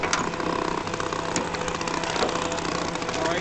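A 1939 ELTO Fleetwin 8.5 hp outboard motor runs steadily at close range, giving a continuous buzzing drone with a rough mechanical chatter that holds an even level throughout.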